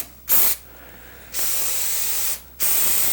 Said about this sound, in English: Basically it's spray contact cement.